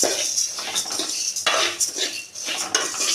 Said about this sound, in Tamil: உளுந்து நல்லா வறுபட்டு வரட்டும்.